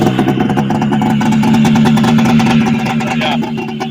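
A 340cc Yamaha Excel III snowmobile engine with a blown-apart exhaust pipe runs loud and close, a rough, rapid throbbing rattle that holds steady before easing slightly.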